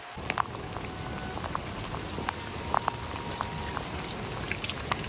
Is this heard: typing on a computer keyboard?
no